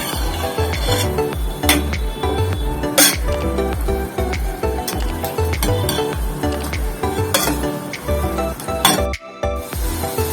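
Radish for mullangi kulambu sautéing in a pan, with a continuous sizzle broken by frequent clinks and scrapes of a spoon stirring against the metal, loud and close with no talking.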